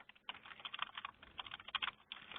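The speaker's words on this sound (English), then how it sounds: "Let me just finish typing this." Fingers typing on a computer keyboard during a webcast, a quick irregular run of close, crisp key clicks with short pauses between bursts.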